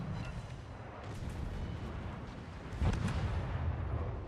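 Warship guns fire in World of Warships, a tier 3 ship trading rapid salvos in battle, heard as a low rumbling barrage of distant booms with one heavier blast near the end, no voices.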